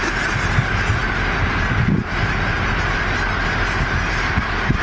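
A large skein of geese honks continuously overhead in Colorado, many overlapping calls against a steady rush of wind.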